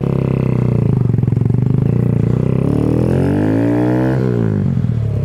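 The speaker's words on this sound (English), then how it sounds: "Here's a motovlog style example of the difference between the Empire Industries exhaust system with and without the silencer" A Kawasaki Z125 with an Empire Industries exhaust rumbles with a throbbing note while riding, then revs up and climbs in pitch as it accelerates, loud and close throughout.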